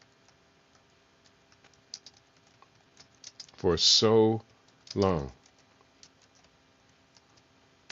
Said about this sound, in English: So I'm typing that in.